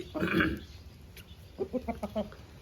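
An Aseel rooster gives a loud, harsh vocal burst up close, followed by a run of short clucking calls in a quiet setting.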